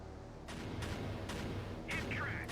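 AC-130 gunship cannons firing in the naval combat game Sea Power, a few heavy evenly spaced booms over a low constant rumble, with a voice briefly heard.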